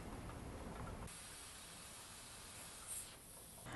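Steam hisses steadily from a pressure canner of green beans as the regulating weight is lifted, a soft continuous rush with a brighter burst at the start and again near the end.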